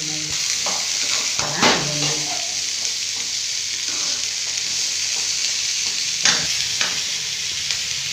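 Onion sautéing in a pan with chicken and black chickpeas, a steady close sizzle broken by a few stirring scrapes of a utensil throughout.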